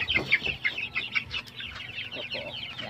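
Fifteen-day-old Shamu strain chicks peep and cheep in a busy, overlapping chorus close by, with dense high chirps running the whole time and a brief voice partway through.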